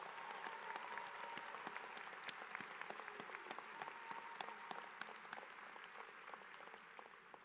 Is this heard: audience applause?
yes